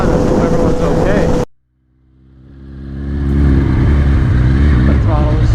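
A Kawasaki Ninja H2 motorcycle engine drops to near silence, then swells steadily back into a loud, close drone while riding, with a voice heard before the cut.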